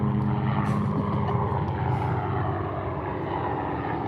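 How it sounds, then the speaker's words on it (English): A helicopter passing overhead, giving a loud, steady engine and rotor drone that fades slightly toward the end. "So, there's a helicopter."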